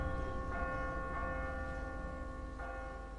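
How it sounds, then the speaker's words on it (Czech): A large school bell in The Walking Dead video game rings with repeated metallic strikes that sustain and overlap, fairly faint and steady throughout with no talk. "Školní zvonek, velký."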